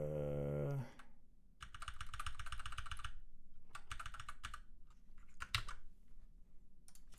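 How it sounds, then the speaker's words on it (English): Fast bursts of clattering typing on a computer keyboard right in front of the microphone, with rapid clicks in several runs separated by short pauses. "I have my microphone right in front of my keyboard."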